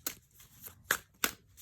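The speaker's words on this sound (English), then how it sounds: "I don't shuffle hard, but it's riffle shuffle," Floating World tarot cards being riffle shuffled by hand, three or four short, crisp, papery riffling bursts at uneven intervals, close and fairly quiet, with no talking.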